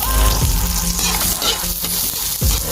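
Garlic frying in bubbling hot cooking oil while being stirred, a loud steady sizzle broken by scraping stir strokes, close up and without talk.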